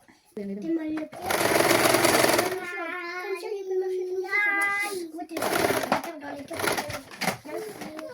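A sewing machine stitches saree blouse fabric, joining the back neck and shoulder pieces, in several loud bursts of whirring with someone talking in the pauses between runs.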